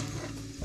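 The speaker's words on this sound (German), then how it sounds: "Metallding nicht so in dieser Pfanne rumkratzen" A metal utensil scrapes and stirs in a frying pan of Samyang fire noodles with Schupfnudeln, a short close grinding scrape over sizzling.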